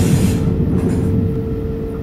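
A DB ICE1 high-speed train runs on the Ruhr-Sieg route in Train Simulator 2018, giving a loud, steady rumble with a faint constant whine and no pauses.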